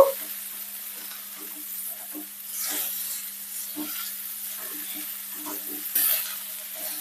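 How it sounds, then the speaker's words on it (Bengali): Okra fries over a high flame while being stirred, giving a soft continuous sizzle broken by repeated scraping strokes of the spatula, close but fairly quiet. "একদম হাই ফ্লেমে একটু নাড়াচাড়া করব"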